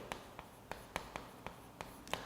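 Marker or chalk tapping and scratching on a board during an English grammar lecture, with about eight light, sharp strokes spaced irregularly and faint against a quiet room.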